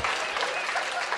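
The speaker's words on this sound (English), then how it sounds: "Why aren't you clapping?" A live show audience bursts into dense, continuous applause, a loud crowd of clapping hands filling the whole moment.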